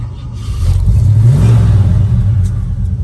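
Engine of a 1968 Ford Ranger F250 truck rumbles close by and rises in a revving swell, then holds a steady low drone, with no talking.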